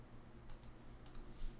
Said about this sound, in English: Pressing F on my keyboard